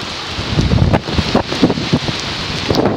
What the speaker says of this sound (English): the wind is blowing terribly, and the hurricane is getting closer and closer